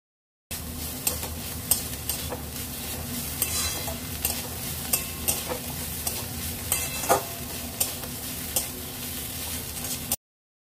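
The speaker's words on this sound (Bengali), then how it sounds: "ঢাকনা খুলে একটু নাড়াচাড়া করে ভাজা ভাজা করে নেব" Radish greens fry in a pan with a steady soft sizzle while a spatula stirs them, giving regular scraping knocks against the metal and no speech.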